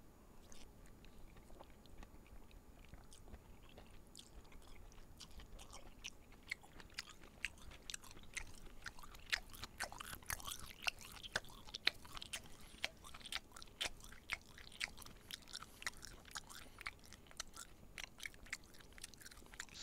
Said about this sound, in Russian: Не чавкай